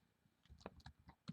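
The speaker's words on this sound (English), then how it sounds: "I'm typing while I'm talking." Soft, quick clicks of typing on a computer keyboard patter faintly in an irregular run, close but quiet, with no talk over them.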